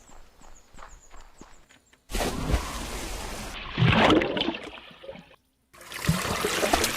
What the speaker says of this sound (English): I love that sound of the splashing.